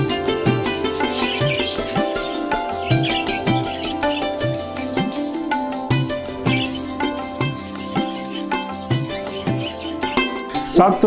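English budgies chirp in a dense, continuous chorus inside an indoor bird room, many overlapping tweets and warbles close by and fairly loud throughout.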